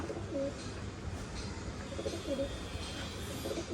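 Low pigeon coos repeat softly in short phrases against a faint background hum.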